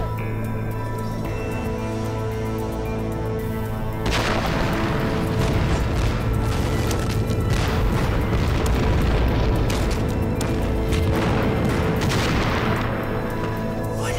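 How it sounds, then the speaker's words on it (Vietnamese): Artillery shelling in a war film: after a few seconds of steady low rumble, a sustained barrage of heavy booms and crackling blasts erupts and keeps pounding, loud and dense, with no talk over it. "bọn Nhật tăng cường bắn pháo, nằm xuống"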